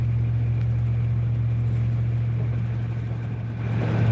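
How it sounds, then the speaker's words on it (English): A 2004 Chevy Silverado V8 truck engine runs at a steady idle, heard from inside the cab as a loud, constant low drone with a little rise at the end. "I got a Chevy Silverado. I'm in a truck. I think it's 2004. It's 8-cylinder."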